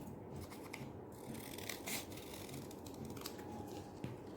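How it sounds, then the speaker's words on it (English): Scissors snip carefully through paper, cutting out a nose shape for a red panda mask: quiet, close, irregular small crunches and rustles at a slow working pace. "With my scissors, very carefully, I'm going to cut this out."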